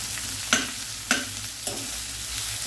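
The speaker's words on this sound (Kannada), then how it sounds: "ಇದನ್ನು ಹಸಿ ವಾಸನೆ ಹೋಗೋಲ್ಲೋರಿಗೆ ಫ್ರೈ ಮಾಡುವ. ಶುಂಠಿ, ಹಸಿಮೆಣಸು, ನೀರುಳ್ಳಿ," Ginger, green chilli and onion fry in oil in a pan for poori sagu, a steady close sizzle broken by three soft scraping strokes of a stirring spoon.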